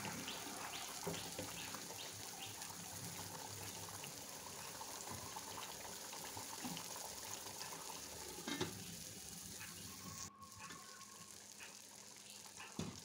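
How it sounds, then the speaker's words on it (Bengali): Beef curry from Qurbani meat being stirred in a cooking pot, a steady wet sizzle and scraping stir running throughout at close range, with no talking. "আবার কিছুক্ষণ রান্না করে আবার নাড়াচাড়া দিচ্ছি"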